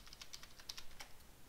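Typing on a computer keyboard, a quick run of light, close keystroke clicks in steady succession, quiet and alone.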